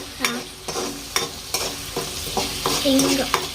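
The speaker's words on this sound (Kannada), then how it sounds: "ಈಗ ಎಣ್ಣೆ ಒಳಗೆ ಚಲೋತ್ನ ಕೈ ಆಡ್ಸ್ಕೊಂಡ್ಬಿಡೋಣ ಹಸಿ ವಾಸಿ ಹೋಗೋ ಮಟ್ಟ ಕೈ ಆಡ್ಸ್ಕೊಳ್ಳೋದು" Onion paste fries in oil while being stirred for an eggplant gojju, a loud close sizzle broken by repeated sharp scraping clicks of a utensil against the pan, roughly every half second.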